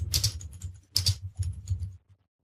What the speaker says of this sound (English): So I'll simply type that in.